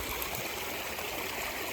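Steady rushing and splashing of water spilling down a waterfall into a lined backyard swim pond, continuous and fairly close with no pauses.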